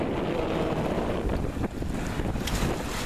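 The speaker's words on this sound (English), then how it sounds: "The wind's holding up" Steady wind roars and buffets across the microphone on a sailboat out on a lake, with faint water wash beneath, continuous and loud throughout without any talking.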